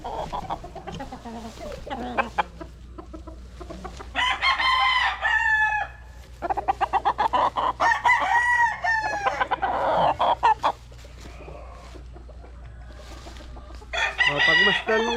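Gamecock stags of the gray national line crowing and clucking close by, with repeated loud crows and short clucks in bursts over a steady low hum.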